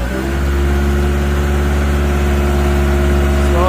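A 2021 Caterpillar 910 wheel loader engine runs near full throttle while creeping along in a slow grading gear, giving a loud, steady mid-pitched roar with sustained tonal whine, close up and continuous.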